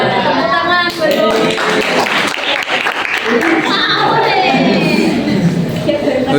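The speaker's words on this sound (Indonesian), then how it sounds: "Tepuk tangan betul" Classroom applause from a group of students during a micro-teaching practice lesson, a dense, loud, steady clatter of many hands clapping throughout, with voices mixed in.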